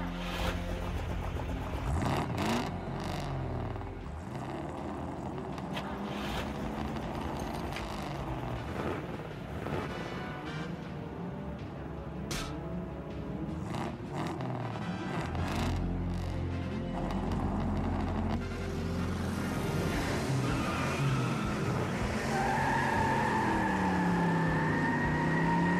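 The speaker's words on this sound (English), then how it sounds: "Gentlemen, start your engine." Cartoon race cars rev and skid through a computer-world race, a dense, continuous roar of engines with rising and falling whines and sirenlike sweeps, loud and busy throughout with no talk.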